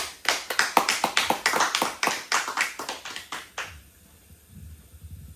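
A church congregation clapping in rhythm during a service: a run of quick, sharp, even claps that stops abruptly, followed by faint low murmur.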